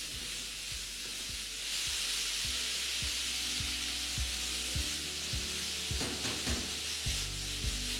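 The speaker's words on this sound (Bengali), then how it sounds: "তারপর আবারও ফ্লেমটা হাই করে এটাকে ভালো করে ভাজতে থাকুন।" Chicken pieces frying with onions in a pan over a high flame, a steady loud sizzle and hiss throughout, with regular scraping and stirring strokes against the pan and a burst of sharper crackle near the end.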